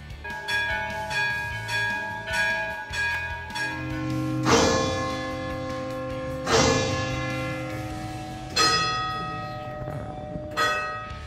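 A church bell at the top of the tower in Assisi rings loud and close, several heavy strikes spaced a couple of seconds apart, each blooming into a long, shimmering metallic hum that overlaps the next.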